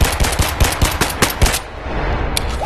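A pistol from an Escape from Tarkov weapon pack fires in the VR game Bonelab, about eight sharp shots in quick rhythmic succession, loud and close, followed by a ringing tail and a faint click.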